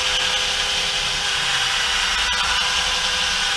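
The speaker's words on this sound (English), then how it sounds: "I'm going to drill the other hole." A power drill whines steadily at high pitch, running continuously and close by with no talking.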